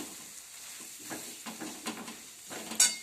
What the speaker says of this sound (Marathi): हे मिश्रण तेल सुटेपर्यंत चांगलं परतून घ्यायचं